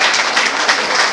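A wedding crowd applauds, and dense, even clapping fills the air at close range for the whole short moment.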